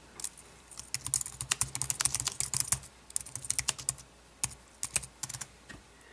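Typing on a Logitech K760 wireless solar keyboard paired with an iPad: a steady run of light, close plastic key clicks in quick bursts with short pauses, no voices.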